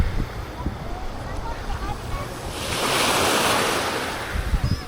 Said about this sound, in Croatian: More je čisto.